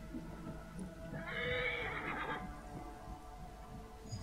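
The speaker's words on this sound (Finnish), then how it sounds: "Kiitos hevonen, että kuitenkin hirnu" A horse in Assassin's Creed Origins gives a single loud, shaky whinny lasting about a second, over low background game ambience with faint hoof movement.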